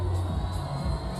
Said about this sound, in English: The crowd is up.